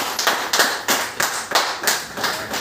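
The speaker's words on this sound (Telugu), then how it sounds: "ఈ సెక్యూరిటీ ఎవరైతే చెప్పిండ్రో వాళ్ళ గురించి గట్టి చప్పట్లు రావాలి." An audience at a business plan presentation claps in a steady rhythm, about seven evenly spaced loud claps in under three seconds, close and without voices.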